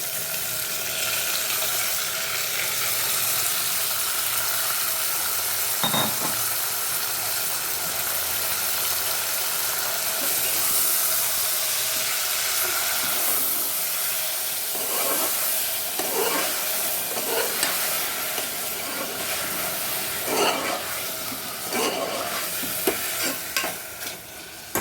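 Chicken bone pieces sauté with onions in a biryani pan, giving a steady, loud sizzle and fry hiss throughout. Occasional scrapes and clinks of a stirring spoon stand out toward the end.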